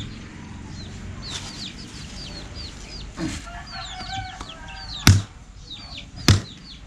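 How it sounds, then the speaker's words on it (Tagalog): Young chicks cheep and cluck around a house yard in a scatter of short, bright calls. Two sharp knocks stand out near the end. "Yung mga sisiw natin."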